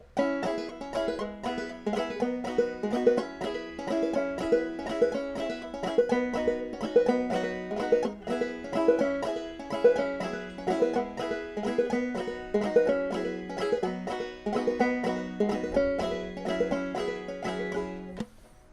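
A clawhammer banjo plays a bright, steadily picked chord progression with rolling rhythm, loud and close, with no voices.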